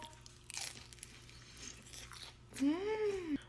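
A veggie spring roll is bitten and chewed up close, with a few faint crunches at the start, while a voice speaks over part of it.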